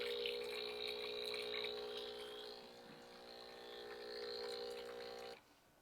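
A Breville Barista Express espresso machine hums steadily while hot water streams out with a soft hiss during cleaning and descaling, then the pump cuts off abruptly near the end.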